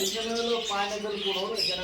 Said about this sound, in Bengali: এই পাশে কি পাখি রয়েছে আনিস ভাই